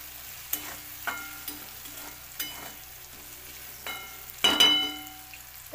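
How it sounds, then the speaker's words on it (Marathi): Red chili powder is stirred into softened tomato and oil in a pan, with a spatula scraping and clinking several times over a faint sizzle, close and quiet. "तर त्यामध्ये आपण लाल पावडर टाकूया। तेलामध्ये मिक्स करूया।"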